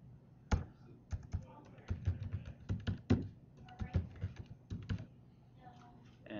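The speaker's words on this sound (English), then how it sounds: "We're going to type in our password, our administrative password here." A password being typed on a computer keyboard: brisk, irregular key taps and clacks in quick bursts, close and fairly quiet, with a few brief pauses.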